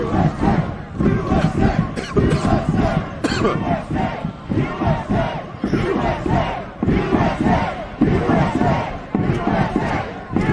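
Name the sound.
crowd of protesters shouting at the Capitol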